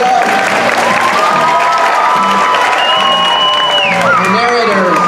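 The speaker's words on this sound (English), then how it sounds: "Another round of applause for our soloists this evening, Micah and Gustavo." Audience applause at a fourth-grade children's concert, a dense steady wash of clapping with cheering and shouting voices mixed in throughout.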